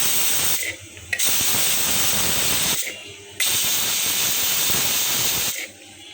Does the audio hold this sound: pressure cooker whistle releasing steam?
yes